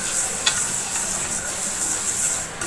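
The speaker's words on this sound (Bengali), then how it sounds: "ডালটাকে একটু নেড়ে চেড়ে ভাজতে হবে যাতে ডালটা পুড়ে না যায়।" Mung dal dry-frying in a pan while being stirred often, giving a steady close sizzle with soft scraping strokes throughout; no talking.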